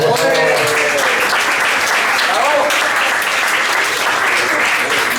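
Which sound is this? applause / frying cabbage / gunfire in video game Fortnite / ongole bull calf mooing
applause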